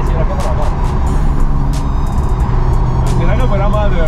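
A Nissan 370Z with a 350-horsepower engine pulls hard at speeds above 200 km/h, its steady engine drone and road roar filling the cabin while people talk over it.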